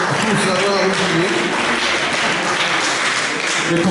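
Audience applause for an architect at a twinned-towns heritage and economy meeting in Auxerre, a steady dense wash of clapping that fills the whole stretch, with voices murmuring underneath.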